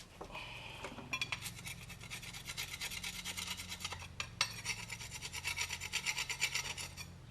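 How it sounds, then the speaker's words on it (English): A hand file rasps across brake parts to scrape off surface rust, with repeated short rubbing strokes in a steady back-and-forth rhythm, close and fairly quiet, plus an occasional light metallic clink. "When I file these"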